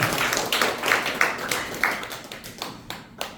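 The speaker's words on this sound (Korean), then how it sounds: "격려의 박수 한번 부탁드리겠습니다" A hall audience claps in encouragement after a lecture, giving a dense patter of many hands that starts fairly strong and thins out over a few seconds, with no talking over it.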